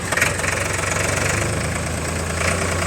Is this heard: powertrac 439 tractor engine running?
yes